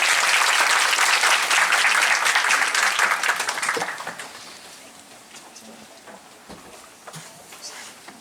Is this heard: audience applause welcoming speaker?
yes